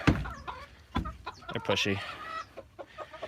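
Backyard chickens, hens with a rooster nearby, cluck and squawk close by in short, uneven bursts while a person speaks briefly among them.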